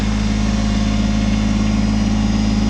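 The engine of a Kubota BX23S compact tractor with backhoe and front loader runs close by, a loud, steady, droning hum that holds an even pitch throughout.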